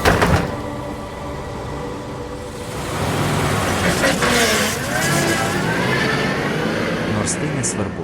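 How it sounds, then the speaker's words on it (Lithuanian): A bus engine rumbles as the bus stops abruptly, with a squealing, whinny-like brake tone over steady road and traffic noise; voices are faintly present. "Staiga man nutraukė minčių seką mašinos variklio garsas. Autobusas staiga sustojo"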